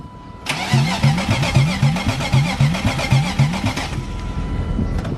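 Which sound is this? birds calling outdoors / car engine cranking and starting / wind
car engine cranking and starting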